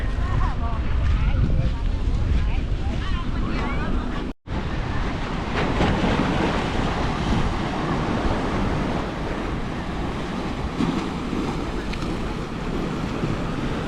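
Strong sea waves and wind on a beach at Pranburi, a loud, continuous roar of surf with gusty wind buffeting the microphone, and one brief dropout partway through.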